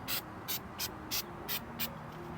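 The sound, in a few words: spraying Goof Off adhesive remover on a car surface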